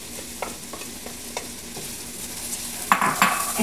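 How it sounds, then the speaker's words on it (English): Lentils are stirred with warming spices in a soup pot over a low, steady sizzle. Soft scrapes recur, and louder spoon clatter and scraping pick up toward the end, all close and without talk. "And I'm going to stir them around."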